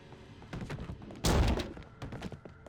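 Two flashbangs going off in Alan Wake, a short sequence of muffled thuds followed by one heavy booming burst, then fainter scattered knocks trailing away.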